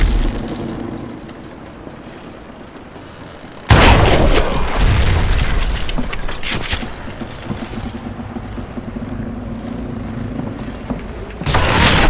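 Gunfire in the Call of Juarez: Gunslinger video game as a rope holding a raised footbridge is shot; a loud booming blast bursts in after a quiet stretch, followed by a sustained rumbling wash of game noise and a second burst near the end.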